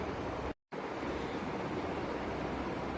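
A mixer grinder pulverizes a bowl of semolina in its mixing jar, a loud, dense, continuous grinding roar broken only by one short cut-off near the start.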